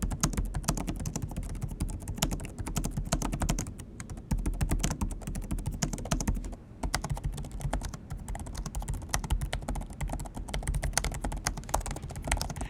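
Fast continuous typing on a Lenovo Legion gaming laptop's full-size TrueStrike keyboard, a dense stream of close, crisp key clicks with only a couple of brief pauses.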